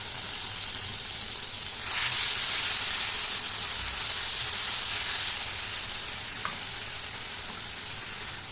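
Eggplant frying in a pan with ginger, garlic, onion and chopped green chili, a steady broad sizzle running throughout that swells slightly louder partway through, close and unbroken, with no talking.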